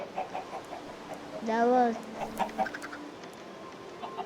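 Chickens cluck in Minecraft on a farm with other animals, one clear warbling bird call rising amid game sounds, with a voice speaking briefly nearby.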